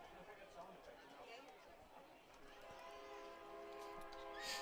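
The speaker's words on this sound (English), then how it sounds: "Train coming by the way in the background." A train rumbles past in the distance behind a town ball baseball game, its horn sounding faintly toward the end, beneath steady announcer talk.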